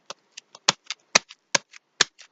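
A deck of tarot cards is shuffled in short, crisp riffling bursts, about a dozen quick slaps and flutters in an uneven rhythm, close and clear with silence between.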